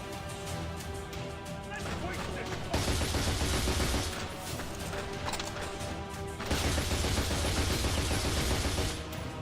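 Dense gunfire bursts in the video game The Darkness during co-op play, loud sustained volleys of rapid shots with crashing impacts, rising and falling in two heavy waves.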